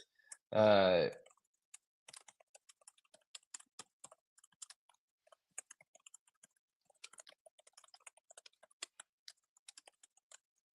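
A computer keyboard clatters in quick, irregular bursts of soft clicks, close and fairly quiet, after a brief spoken remark at the start.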